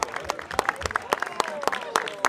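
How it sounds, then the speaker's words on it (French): An audience applauds at the closing gala of the Liège crime film festival, scattered sharp claps rising and falling in an uneven rhythm, with voices murmuring underneath. "C'est Anis Darga, on peut l'applaudir."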